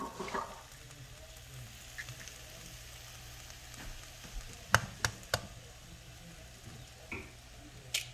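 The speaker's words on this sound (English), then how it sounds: "Now we are going to scramble our eggs." Two eggs are scrambled in a hot pan, giving a low, steady sizzle broken by several sharp knocks and scrapes of a utensil against the pan, close by, with no voices.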